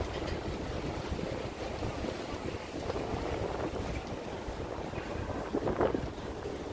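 Steady, gusty wind roars and buffets the microphone on the elevated High Line park near Hudson Yards in New York City, a dense low rumble with a brief surge near the end and no speech.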